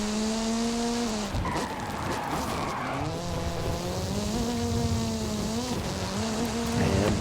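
Hoonigan RS200 car in a racing video game, a high-revving engine whine shifting pitch up and down, mixed with repeated tyre squeal and skidding, loud and continuous.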